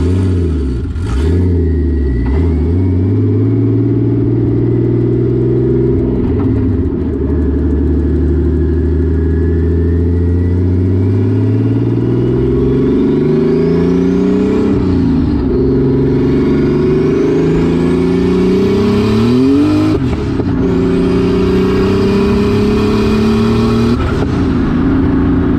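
BMW-engined go-kart running close and loud, the engine revving up and falling back in repeated surges between steady idle-like stretches, with harmonics sweeping as revs climb.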